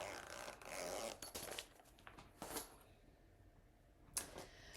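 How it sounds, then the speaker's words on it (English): A zipper on cross-stitch project storage is pulled in a few quick, quiet rasping strokes, with soft handling sounds and a small click near the end. "Zipper."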